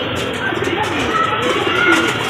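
Caged pigeons give soft, repeated coos close by, against a steady background hiss, with a voice speaking in places.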